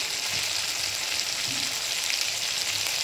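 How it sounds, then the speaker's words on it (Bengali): Spice paste of turmeric, cumin and coriander powder frying in a pan for a basa fish curry, giving a dense, steady close sizzle with a faint stir scrape midway, no voices. "দিয়ে আমি এখন মশলাটাকে ভালো করে ভেজে নেব"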